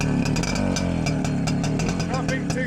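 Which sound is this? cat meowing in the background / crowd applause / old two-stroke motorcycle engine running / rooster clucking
old two-stroke motorcycle engine running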